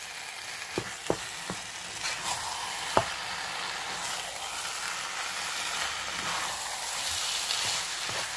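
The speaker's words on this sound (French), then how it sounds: "je vais juste laisser rissoler" About 500 grams of ground meat browns in a pan for a meat sauce, a quiet, steady crackling sizzle with a few sharp ticks early on and no stirring.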